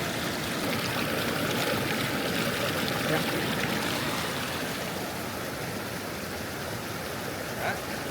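Cold mountain stream on the trail from Whitney Portal rushes in a steady, loud, unbroken wash of flowing water, close to the microphone, with no talking.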